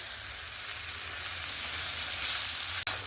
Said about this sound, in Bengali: এই দুটো চিংড়ি মাছও আমার ভাজা হয়ে গেল